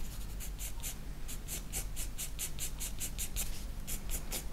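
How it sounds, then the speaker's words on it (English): A pencil shading on paper, laying in tone and shadows on a watercolor mushroom painting. The strokes are close and rhythmic, a steady series of soft scratchy passes with no talking. "you can always add these things with the pencil"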